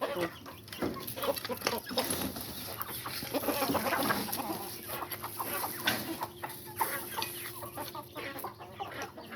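Fighting roosters clucking and squawking continuously in a busy, noisy scene, with scattered sharp bursts of agitated fowl sounds throughout.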